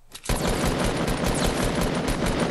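A continuous, loud burst of rapid automatic AR rifle fire in a video game, beginning abruptly after a brief quiet moment and rattling without pause to the end.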